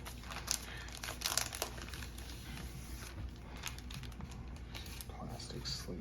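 Plastic sleeve packaging on a Duel Masters Super Complete Works 20th Perfect Box is handled, with close, faint crinkling and rustling bursts and soft taps, no talk.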